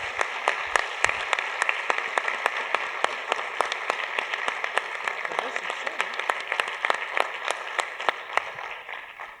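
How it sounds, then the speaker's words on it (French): A closing-session audience applauds an event organizer in steady, rhythmic unison clapping that stays loud and even throughout, with a faint steady tone lingering underneath. "On peut l'applaudir."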